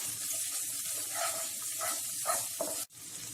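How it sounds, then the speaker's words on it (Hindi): Chopped ginger sautés in a hot pan with a steady, hissing sizzle, plus a few soft stirring scrapes near the end. "इसे भी सौटे कर लें।"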